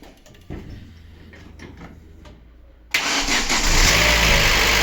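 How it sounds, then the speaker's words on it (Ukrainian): Quiet clicks and clunks, then a fully cold Daewoo Lanos 1.6 16v engine, rebuilt after a cracked cylinder head, abruptly cranks and fires up for its first start, settling into a loud, rough, steady idle. "Двигун повністю холодний, буде перший пуск."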